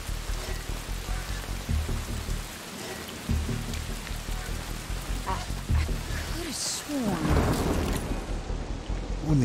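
Thunderstorm and heavy rain in the video game Desperados 3: steady, dense rainfall with low rumbling thunder rolling through, rising to a louder crash near the end.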